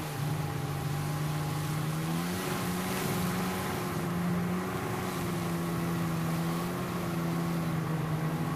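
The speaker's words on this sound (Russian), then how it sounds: "Водный скутер." Jet ski running on water, its engine droning steadily with a tonal hum that shifts slightly in pitch, set against a continuous wash of water and wind, no talking.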